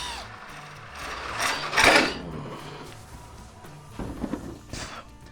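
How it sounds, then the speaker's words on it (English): Screws are driven into a turned wooden hat to fasten it to a mount, giving a few scattered mechanical whirs and clicks of varying loudness with a brief louder burst in the middle. "we'll go ahead and screw this on"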